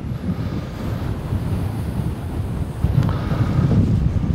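On a golf course, wind buffets the microphone with a continuous loud rumble and gusty roar, strengthening toward the end.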